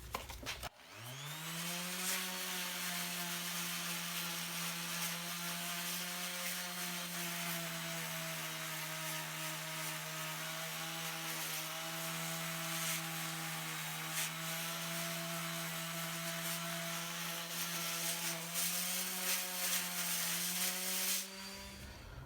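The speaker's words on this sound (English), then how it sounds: "we just went over it real good with the 100 grit there on the DA" A dual-action (DA) sander fitted with 100-grit paper runs steadily on metal during prep for candy paint, a continuous close whir with a steady tone from start to finish, then stopping.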